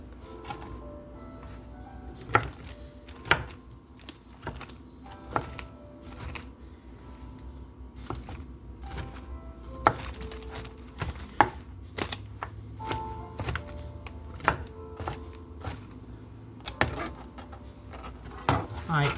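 A knife chopping broccoli stems and florets on a cutting board, a long run of sharp close taps in uneven bursts, with a few other kitchen clatters.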